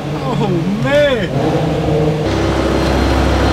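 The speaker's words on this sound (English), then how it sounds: "Couple revs." A straight-piped BMW M5 V10 engine revs up sharply in a quick rising and falling burst, then settles into a steady loud drone.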